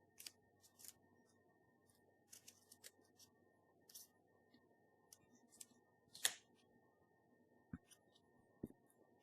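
Scissors snip through a recycled carton in scattered, faint, close crisp cuts, with a few sharper snips and quiet handling noises between them.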